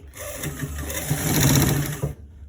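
Sewing machine stitching trouser fabric, a steady close mechanical whirr with rapid needle rhythm that runs for about two seconds and then stops abruptly.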